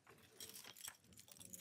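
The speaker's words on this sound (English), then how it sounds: "Oh, these are not my keys." A bunch of keys jangles and clinks in several quick, light bursts, faint and close, with no talk over it.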